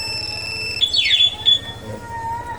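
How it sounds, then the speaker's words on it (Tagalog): A loud electronic motorcycle anti-theft alarm chirps and warbles with shifting high-pitched tones over a low engine-like hum, close by. "sa loud alarm naman ito, isang pindot lang"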